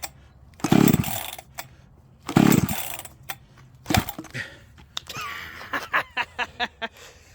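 Small two-stroke engine, likely a chainsaw, pulled with a recoil starter that fails to catch: two loud rasping pulls a second apart, a shorter third, then a run of quick faint clicks and rattles.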